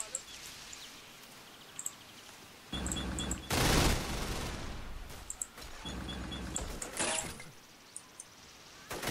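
Heavy machine guns firing in the Men of War: Vietnam strategy game, heard as bursts of rapid gunfire and dense battle noise swelling and fading over ambient sounds, with occasional louder sharp cracks.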